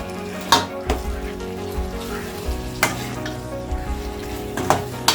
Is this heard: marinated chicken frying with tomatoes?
yes